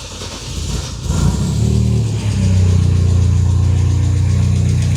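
Mercedes M111 engine in an EVO 1 racecar cranking over and catching, settling into a loud, steady, slightly lumpy idle that stays up close and continuous, with no voices.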